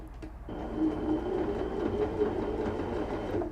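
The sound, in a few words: Baby Lock Anna sewing machine sewing stretch stitches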